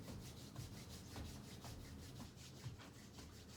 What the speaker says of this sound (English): rubbing the palms together at the heart